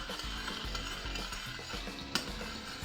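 Balsamic vinegar simmers and reduces in a pan, a low bubbling sizzle with irregular clinks and scrapes of stirring throughout. There is no talk.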